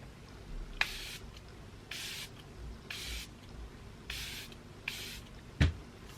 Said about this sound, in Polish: No i to oczywiście będzie mój ulubiony setujący spray od Charlotte Tilbury.